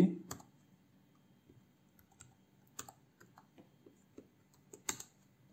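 Light typing on a computer keyboard while coding in Python, with scattered soft key clicks and a few sharper taps spread irregularly across the stretch, fairly faint, with no talking.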